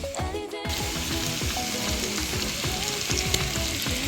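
Minced garlic and vegetables sautéing in a pan for seafood pasta, a steady close sizzle with scraping and clinking of a utensil as they are stirred.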